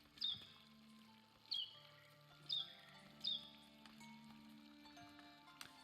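Fountain melody in the game Foundation: four bright chiming notes ring out evenly spaced over the first few seconds, faint and soft over a quiet ambient bed, with no voices.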